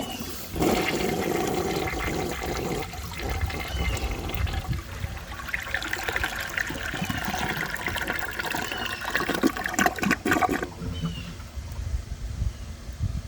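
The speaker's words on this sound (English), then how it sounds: "I will show you guys a flush" A 1984 American Standard Cadet toilet with a standard flapper flushes loudly up close, a rushing swirl of water that drains and trickles, then cuts off abruptly as the flapper closes and refill water hisses on.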